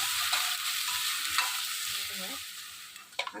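Finely chopped onion frying in a pan with chilli, a steady soft sizzle under occasional stirring scrapes, close and unbroken for a few seconds.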